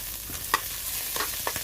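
Garlic sizzles in a hot frying pan of oil while sardines are cooked, with a continuous close hiss and a few sharp stirring clinks and scrapes of a utensil against the pan.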